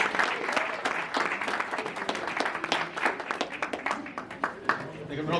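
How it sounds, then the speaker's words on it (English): An audience at a grief recovery talk breaks into clapping, many individual claps audible at first, then thinning toward scattered claps as voices come in over them. "First of all, round of applause for the Trongs and the lunch that they"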